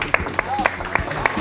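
A comedy show audience claps in a loose rhythm of sharp, evenly spaced beats, with voices and cheering mixed over it.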